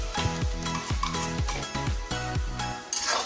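Green masala paste hits onions frying in a hot pan, a steady loud sizzle with repeated stirring scrapes and occasional metal clinks, no voices.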